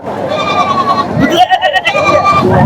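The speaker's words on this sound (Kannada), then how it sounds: "ಫಸ್ಟ್ ಫಸ್ಟಲ್ಲೇ ಒಂದಿದೆ ಮೇಕೆ ಇದು ಚಿಕ್ಕ ಮೇಕೆ" A small goat at the weekly Bangarapet sheep and goat market bleats loudly and close by in wavering, drawn-out cries, with people talking around it.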